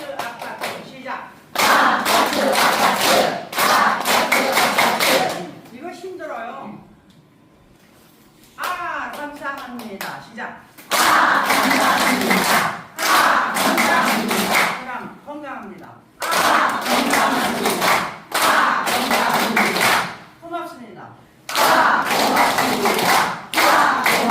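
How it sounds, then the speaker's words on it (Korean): A group claps hands together in repeated rhythmic bursts during a class gathering at an education museum, with stretches of speech and chanting between the loud clapping runs. "박수 치면서 다 같이 박수 치면서"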